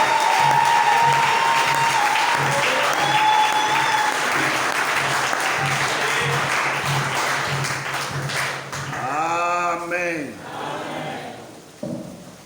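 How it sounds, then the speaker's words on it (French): A church congregation breaks into loud applause and cheering at a sermon, dense clapping under a sung or shouted voice, which fades into a held tone near the end. "Est-ce que nous pouvons lui donner une acclamation?"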